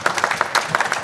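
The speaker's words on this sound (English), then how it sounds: "Round of applause." An audience at a conference launch of the ERC Guidelines 2025 bursts into applause, brisk, close, overlapping hand claps filling a short moment.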